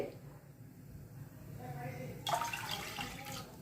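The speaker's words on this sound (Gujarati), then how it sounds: "તો એના માટે આપણે આ 2 વાટકી આપણે આ પાણી એડ કરશું અંદર" Water pours from a bowl into a pan for a semolina and potato snack, a steady splashing rush that starts partway through and continues over faint room noise.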